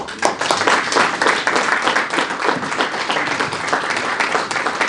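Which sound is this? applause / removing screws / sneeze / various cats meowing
applause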